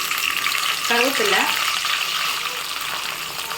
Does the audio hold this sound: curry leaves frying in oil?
yes